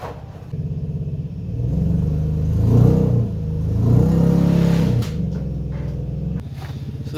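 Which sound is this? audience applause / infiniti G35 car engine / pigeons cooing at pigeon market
infiniti G35 car engine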